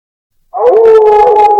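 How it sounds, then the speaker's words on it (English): A wolf gives one loud, near howl that starts abruptly after a moment of silence, rising slightly and then holding a long steady tone, with nothing else heard. "The wolf howled, leaping out of the pot and running away into the forest"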